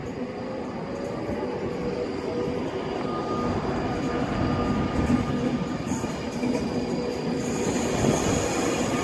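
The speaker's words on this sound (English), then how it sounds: "the train's probably at about 30-40 miles an hour now. Quick acceleration." Passenger train passing near a Stockport depot and picking up speed, a steady loud rumble of wheels and rail noise that builds slightly over several seconds, with faint high squeal tones above.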